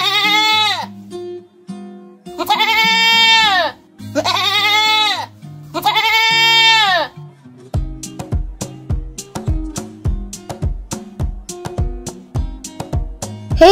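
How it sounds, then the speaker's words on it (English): A goat bleats four times in long wavering calls, loud and close, followed by a bouncy percussive backing track with light plucked notes; no one speaks. "And the sound of the goat is"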